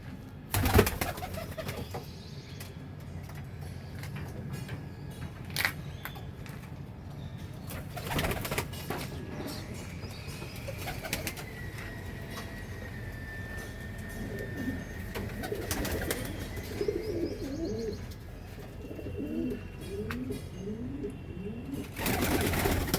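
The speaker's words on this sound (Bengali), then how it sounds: "এই সাদা পায়রাটা কত বড় আর এর ভেতরেও রয়েছে একটা ঘর এর ভেতরের ঘরেও রয়েছে পায়রা" Pigeons coo repeatedly inside their coop, soft rolling calls rising in a cluster of rhythmic coos toward the end, heard close over faint background noise.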